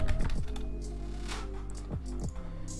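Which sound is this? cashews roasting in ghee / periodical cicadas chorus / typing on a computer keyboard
typing on a computer keyboard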